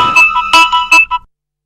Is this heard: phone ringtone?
yes